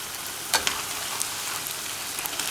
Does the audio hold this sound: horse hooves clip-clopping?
no